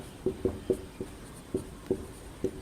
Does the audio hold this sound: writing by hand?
yes